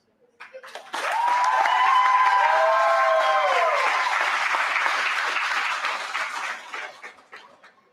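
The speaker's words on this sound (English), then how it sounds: "let's give all of these graduates one more round of applause." Sustained applause from a graduation ceremony audience for high school graduates, loud and dense clapping that swells quickly and holds for several seconds before tapering off.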